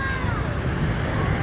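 Rushing water in Zurich, Switzerland, makes a steady, close, broadband roar that stays constant for a brief moment, with no distinct voices.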